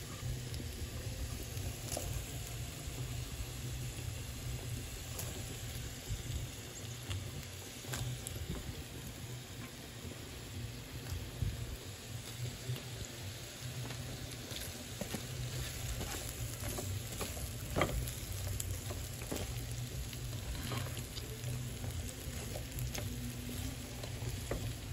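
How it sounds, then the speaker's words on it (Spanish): Onion sizzles and fries steadily in a pan for homemade pickled chiles, a continuous dense crackle with occasional soft stirring scrapes, close and fairly loud. "Ya le estoy agregando la cebolla."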